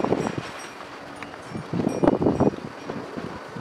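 Wind gusts across the grounds of a hilltop temple in Kathmandu, buffeting the microphone with uneven rushing bursts that rise and fall, close and fairly loud, with no speech.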